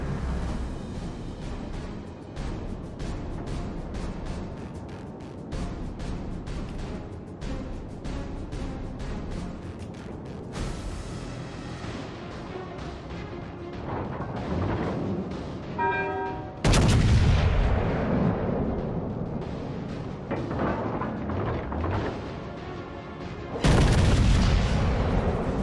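Naval guns in World of Warships: Legends fire in heavy, booming salvos over a dense roar of battle, with repeated deep blasts and two especially loud explosions near the end.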